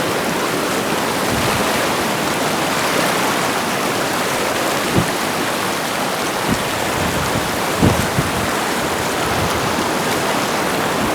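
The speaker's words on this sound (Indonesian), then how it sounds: "harus melewati aliran sungai seperti ini" A river stream rushing during a crossing in Sumatra, a loud, dense, continuous wash of flowing water with a few brief splashes or knocks, and no voices over it.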